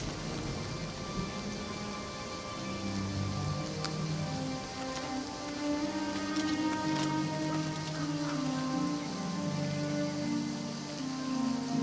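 Steady rain falls over the city of Anvil in Oblivion Remastered, a continuous even patter of drops on surfaces with a few sharper drips standing out. Soft, low rumbling sits underneath, and no one speaks.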